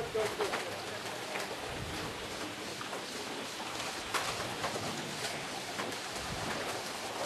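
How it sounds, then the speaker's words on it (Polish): Racing pigeons arrive at a club loft in Tczew, with soft cooing and fluttering over steady outdoor noise while people talk nearby. "Widzimy tam te gołębie się kłębią."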